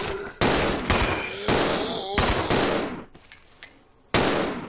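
Repeated pistol gunfire at zombies in Resident Evil 0 HD Remaster, a series of loud, sharp shots in quick bursts with brief gaps, each blast ringing out before the next.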